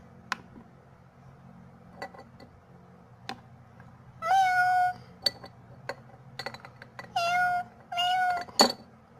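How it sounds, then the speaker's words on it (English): Small cats meowing in a pet store setting, a few drawn-out mewing calls in bursts near the middle and end, close and clear over a quiet background with faint clinks. "these are cats."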